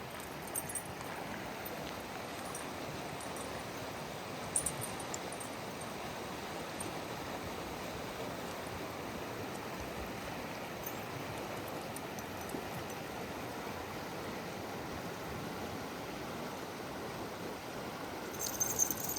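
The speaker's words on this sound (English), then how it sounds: "And here it is, the beautiful Sauk River." The Sauk River flows in a steady, soft broadband rush heard from a trail, faint and continuous, with a few small knocks and rustles near the listener.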